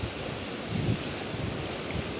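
Sea waves wash onto a beach in Prachuap with a steady, soft roar mixed with wind buffeting the microphone, and one slightly louder surge near the start.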